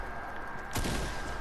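A single sharp gunshot in the video game Fortnite, a loud crack with a short rumbling tail following a quiet stretch of low background hum.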